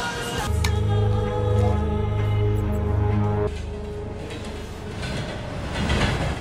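A train rolls steadily along the rails in an action film, with a loud rumbling drone and a strong humming engine tone that drops away partway through, leaving rattling wheel noise.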